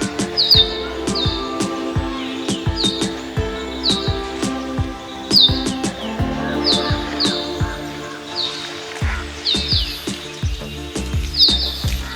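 Morning birds in the hills chirp in quick, repeated bright phrases every second or so, close and clear above a steady low background hum.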